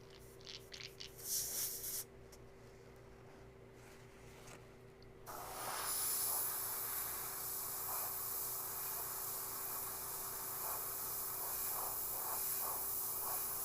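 After some scratchy handling, a paint spray gun starts a loud, steady hiss of spraying that keeps up without a break.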